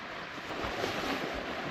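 Flowing water of the River Tees in County Durham, a broad steady rushing wash with some wind buffeting on the microphone, fairly loud and continuous with no talking.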